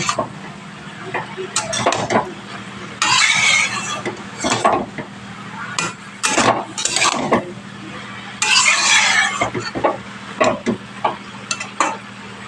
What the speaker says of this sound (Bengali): দিয়ে ভালোভাবে মশলার সাথে সবজিটা কষিয়ে নিতে হবে